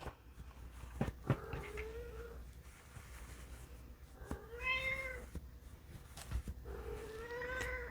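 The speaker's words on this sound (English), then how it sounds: "I think you can hear my cat whining." A house cat meows and whines repeatedly in drawn-out, rising cries at moderate distance, three or more calls spaced over several seconds amid room noise.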